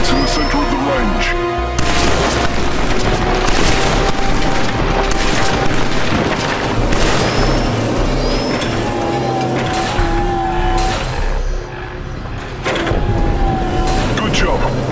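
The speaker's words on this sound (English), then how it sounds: "Let's start with your assault rifle." An assault rifle fires at targets on a shooting range in Killzone 3, giving loud, sharp bursts and booming reports spaced across a steady mechanical background hum, with distant whistling tones and occasional impacts between shots.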